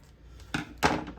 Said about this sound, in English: All right, so let's trim this just a smidge